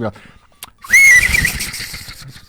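A street vendor's bright, sustained whistle rises sharply and wavers over steady background noise and low rumble, loud and fairly close.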